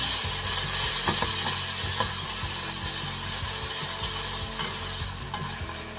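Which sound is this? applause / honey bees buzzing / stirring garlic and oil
stirring garlic and oil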